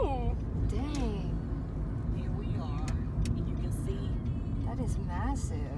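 Car driving through the grounds of Tyler Perry's studios on a tour, a steady low engine and road rumble inside the vehicle, with people talking and exclaiming over it throughout.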